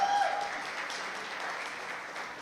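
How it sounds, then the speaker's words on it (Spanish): A crowd claps steadily and evenly, a dense wash of applause heard from a moderate distance, sustained throughout. "¿Por qué no le damos un aplauso a mi mamá que me va a acompañar esta mañana?"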